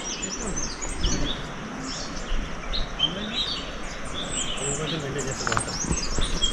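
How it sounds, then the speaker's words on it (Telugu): Birds sing and chirp in the forest on the Netravati mountain trek near Chikmagalur, scattered high calls under a person talking, with a steady outdoor wash of background noise. "bird sounds and water fall sounds వస్తున్నాయి"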